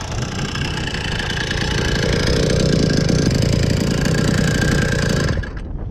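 A BT100 engine runs without an exhaust gasket, a steady close, loud mechanical drone with rapid firing pulses that cuts off abruptly near the end.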